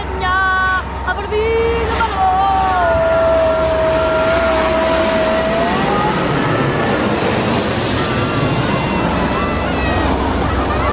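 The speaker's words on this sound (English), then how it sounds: "while we're waiting for the aeroplanes to pass" A loud, continuous roar swells and builds like an aircraft passing overhead, mixed with heavy wind noise and a brief voice early on.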